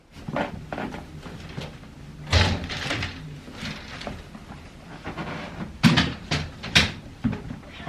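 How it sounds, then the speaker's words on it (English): A house door is opened to let cats outside, giving a few scattered clunks and knocks with a louder bump near the middle and quieter shuffling between them. "I'm just about to open the door for the cats and let them out"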